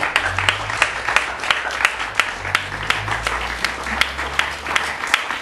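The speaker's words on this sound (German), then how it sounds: "Ich denke, er hat auch mal an dieser Stelle einen Applaus verdient." Outdoor applause at a memorial vigil in Achern for Japan: steady, moderately distant clapping from a small crowd, with individual claps standing out in an even rhythm throughout.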